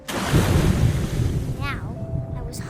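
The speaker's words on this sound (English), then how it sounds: "I rolled off the cliff and into the ocean." In the video game What Remains of Edith Finch, ocean waves and wind roar loudly and steadily after a shark rolls off a cliff into the sea, with a brief watery whoosh and a faint tone near the end.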